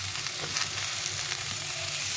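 Sliced ridge gourd and other vegetables for shukto sizzle in a pan of hot oil as they are turned, a close, continuous crackle with a few soft stirring scrapes.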